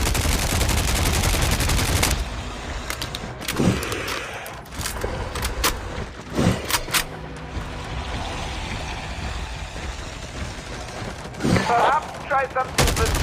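LMG and shotgun gunfire in a video game zombie mode: a dense continuous burst of automatic fire at the start, then scattered single shots and short volleys with game effects, loud and close.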